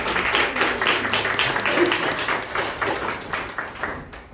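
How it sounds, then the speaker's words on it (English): An audience applauds at an indoor event, a room full of people clapping together in a dense, moderately loud patter that carries on throughout. "Can we give Hui a big round of applause?"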